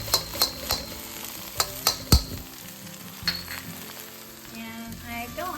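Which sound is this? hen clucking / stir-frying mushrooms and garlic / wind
stir-frying mushrooms and garlic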